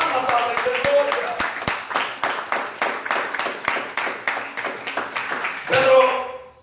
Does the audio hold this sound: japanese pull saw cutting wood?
no